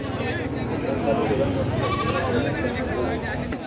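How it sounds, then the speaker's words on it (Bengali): Native deshi goats bleating at the crowded Taherpur goat market in Bagmara, Rajshahi, the calls mixed into steady nearby human chatter and general market noise. "অরিজিনাল দেশি ছাগল কিনতে চলে আসুন তাহেরপুরের হাটে"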